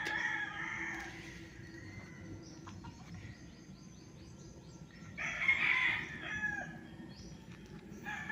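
A rooster crows twice on a farm property in Nagcarlan, Laguna, once at the start and again midway, moderately distant and set over a steady outdoor background hum.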